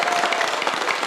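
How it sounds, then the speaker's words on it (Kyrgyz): A studio audience of Kyrgyz university students applauds at a televised talk show, producing dense, steady, fairly loud clapping that holds evenly through the short stretch without a voice over it. "Кол чабуулар."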